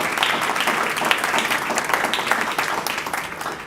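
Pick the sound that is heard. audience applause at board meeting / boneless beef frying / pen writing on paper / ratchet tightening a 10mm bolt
audience applause at board meeting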